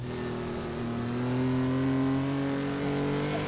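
A race car engine in a racing sim pulls hard uphill under power, a loud, sustained drone with the pitch rising smoothly as it accelerates.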